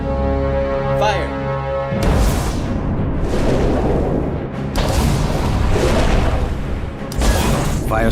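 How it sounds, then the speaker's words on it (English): A submarine firing three torpedoes at a destroyer in a World War II Atlantic battle, with loud deep booming launch blasts and rumbling bursts coming in successive waves, layered under music and a narrating voice. "Fires 3 torpedoes to target the widest area of the ship possible"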